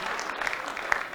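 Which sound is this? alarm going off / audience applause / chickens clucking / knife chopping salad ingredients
audience applause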